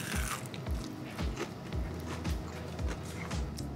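Biting into golden fried fish cakes served with sweet potato crisps gives a close, loud crunch, a series of brittle crackling chews repeating steadily for several seconds.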